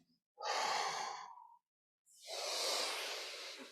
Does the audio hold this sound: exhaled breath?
yes